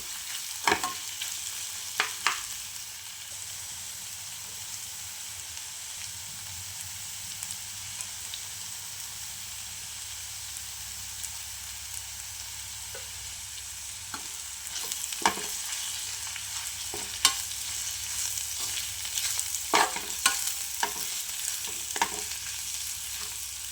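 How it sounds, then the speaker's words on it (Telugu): Mushroom fry sizzles steadily on a low flame, with a near, continuous crackle broken by occasional scrapes and taps as it is stirred, more often toward the end. "నేను ఏమేమి వేసానో అవన్నీ వేసుకొని మంచిగా ఈ విధంగా సిమ్లో ఫ్రై చేసుకోవాలి"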